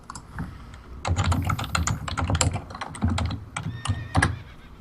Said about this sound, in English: I'm gonna buy you a quieter keyboard someday.